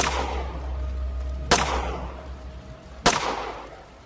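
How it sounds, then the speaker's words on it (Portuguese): Three sharp gunshots crack about a second and a half apart, each with a quick echoing decay, over a low steady background of rain. "seguido pelo som de 3 tiros"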